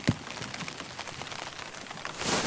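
Real rain patters steadily on a Cuben fibre tarp shelter, a close irregular scatter of drops with one sharp hit at the start and a louder wash of rain near the end, with no talking.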